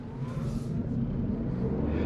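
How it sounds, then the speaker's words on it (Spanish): A 2021 Toyota Yaris accelerates on the Autobahn, a steady loud engine and road roar heard from inside the car, rising slightly with no speech. "Tiene una salida tremenda el coche"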